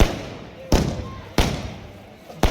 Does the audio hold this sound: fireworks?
yes